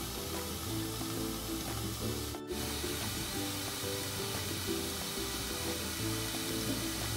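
Cauliflower for vegetable biryani sautéing in a covered pan, a steady close sizzle and hiss with faint stirring sounds and one brief break, no talk.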